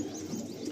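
Pigeons coo softly in a large loft holding over a hundred birds, a brief close murmur of low cooing with faint chirps.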